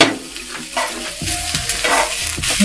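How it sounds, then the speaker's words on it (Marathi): Coriander seeds and a little fennel dry roasting in a pan over full flame, with steady scraping and stirring and a soft rattle of seeds against the metal throughout, no voices. "हे सुद्धा धणे आणि जराशी बडीशेप घेतलेली आहे ती सुद्धा भाजून घेणार आहे"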